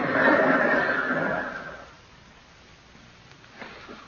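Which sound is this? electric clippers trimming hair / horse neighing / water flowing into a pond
horse neighing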